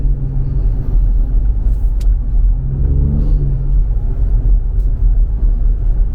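A Ford Ranger Raptor V6 pickup driving on a rough road, its engine a steady low rumble with tire and road noise, loud and close from inside the cabin, with brief faint clicks and no talk.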